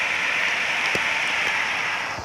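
Heavy rain pours down in a steady, loud hiss of dense drops, with a few sharper drips or taps standing out near the start and end.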